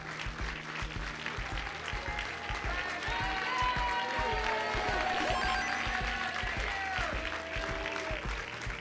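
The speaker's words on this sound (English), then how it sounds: "adulation from the crowd for Chris Brady" A crowd at the 2019 Classic Tetris World Championship gives steady, sustained applause after a first-round match, the clapping filling the hall with a sharp rhythmic texture and faint commentary beneath it.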